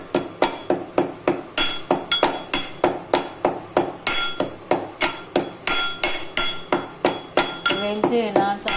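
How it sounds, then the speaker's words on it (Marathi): Cardamom pods and cashews are pounded in a mortar with a pestle, about two sharp, ringing strikes per second in a steady rhythm, close and loud, with a short scraping rattle near the end. "वेलची आहे ना ही अशी फोडून घेतली आणि आता थोडी कुटून घ्यायची वेलची."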